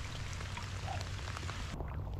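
Steady rain falls around a kayak on open water during a bass fishing tournament, a constant soft patter and hiss at moderate level with no voices.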